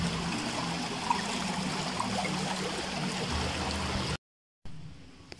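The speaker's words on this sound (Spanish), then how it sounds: "Es el río." River water flows and trickles steadily as a continuous close rush, then cuts out abruptly near the end before a quieter stretch of water returns.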